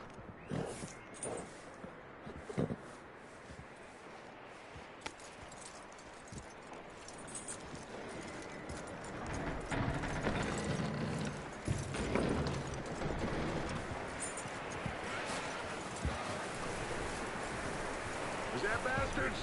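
Horse hooves clip-clopping in Red Dead Redemption 2, a steady stream of hoof beats under soft rain-like ambience and game sounds, with a voice talking at times.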